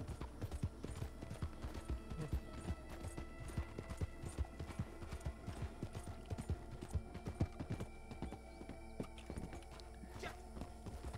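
Horse hooves gallop in Red Dead Redemption Online, a fast, busy clip-clop pounding out close and continuous, with faint voices now and then in the background.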